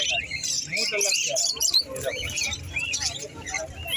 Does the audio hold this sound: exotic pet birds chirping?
yes